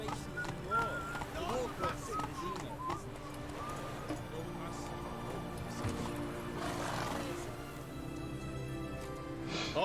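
Horse galloping in The Witcher 3 video game, rhythmic hoofbeats with snorts and game ambience, steady and fairly close, mixed under a person talking.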